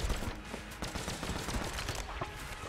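Hyperlight cannon fire in a video game, a dense run of sharp crackling energy shots rattling off in quick succession, loud and close, with game effects layered underneath.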